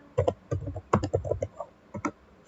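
A computer keyboard is typed on in short bursts of crisp, close key clicks with small pauses between groups, quiet and without talk, as a network switch command is entered.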